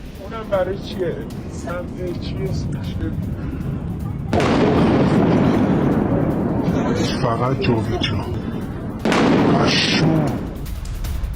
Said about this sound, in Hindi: भयंकर विस्फोट के बाद अराक शहर दहल गया